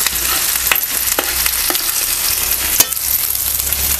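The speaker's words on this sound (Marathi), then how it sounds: "आता हे शेवटचंच आहे त्यामुळे हे सुद्धा मी चांगलं असं परतून घेते." Potato and gram flour snack pieces frying in hot oil, a loud continuous sizzle broken by a few scraping stirs, close up and without speech.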